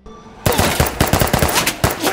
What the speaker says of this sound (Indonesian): Tersangka sempat melepaskan tembakan.